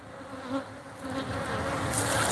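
Honeybees buzzing around a beekeeper in a white coat beside their hive, a steady, moderately faint swarm hum that swells slightly toward the end.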